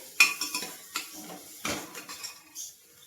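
Fried onion, with garlic and ginger, being stirred in a pan: a series of sharp metal utensil clinks and scrapes against the pan at an irregular rhythm, close and moderately loud, with no talking.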